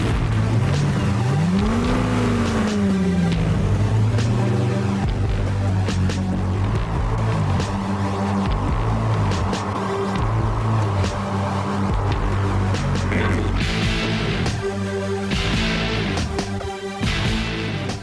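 A supercar engine fires up through a push-button starter and keeps running with a loud, close rumble. A rising whine comes early, and the engine holds a steady idle with brief revs throughout.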